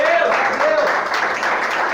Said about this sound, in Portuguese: Você pode dar uma salva de palmas para o Senhor, porque você é filho de Deus